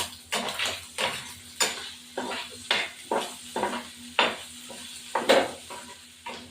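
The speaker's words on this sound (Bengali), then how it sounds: "এবার আমি চিংড়ি মাছটা দিয়ে দিলাম।" Prawns frying in a pan for a fig and prawn curry, rhythmic spatula strokes scraping and clinking against the pan roughly every half second over a low sizzle, close and clear with no talk.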